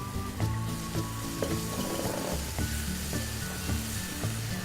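Tomatoes go into a pan of sizzling masala spiced with garam masala and salt, a loud continuous fry with a few stirring knocks and no talking.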